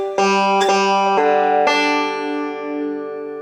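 A banjo plays a Scruggs-style roll pattern with sixteenth notes. A handful of bright, twangy plucked notes ring out close and alone, one quick pair of notes among them, and the final note sustains and fades.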